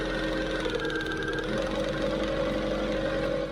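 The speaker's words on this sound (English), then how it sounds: "Customer states, car runs weird when idling." A car engine idles roughly with an uneven, knocking churn, a steady loud drone running close and continuous throughout.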